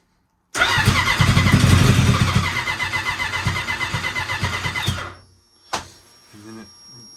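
Twincharged Ski-Doo Apex snowmobile engine cranks and fires, running loud and rough for about four seconds before abruptly dying, followed by a brief sharp knock and faint afterward noises.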